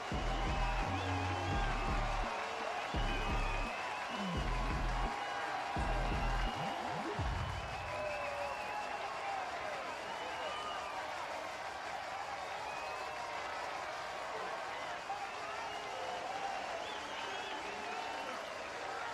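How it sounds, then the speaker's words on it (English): Constant crowd cheering and applause from the sidelines in the cycling game Zwift, a dense continuous roar that runs throughout, with a pulsing low rumble in the first part and no voices over it. "The constant cheering is very odd when there's nobody at the sideline."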